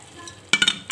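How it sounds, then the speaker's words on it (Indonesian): Baby squid in sambal is stirred in a frying pan, a short burst of metallic scraping and clinking over a light sizzle. "Kita aduk hingga matang ya."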